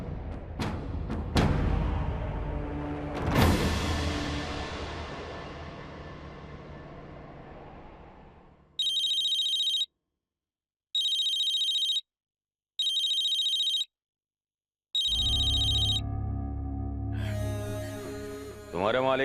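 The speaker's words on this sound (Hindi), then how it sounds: "तुम्हारे मालिक धर्मराज का फोन है।" A phone's electronic ringtone chirps in four evenly spaced bursts after dramatic music fades out, sounding loud and clear alone before the music swells back in.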